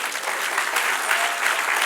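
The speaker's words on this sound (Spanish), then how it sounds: "Dale un aplauso al Señor." Members of a church congregation applaud together in dense, continuous clapping, loud and close, with no voices standing out.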